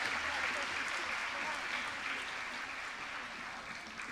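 A church congregation applauds during an autumn special dawn revival service, a dense, even wash of clapping that stays soft and distant before easing slightly toward the end.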